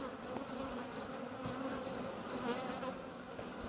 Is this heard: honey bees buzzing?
yes